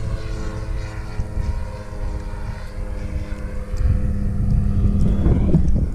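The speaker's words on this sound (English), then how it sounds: "Oh, look at the plane." A low propeller plane drones steadily, its engine hum swelling louder toward the end as it passes close overhead, with some wind buffeting the microphone.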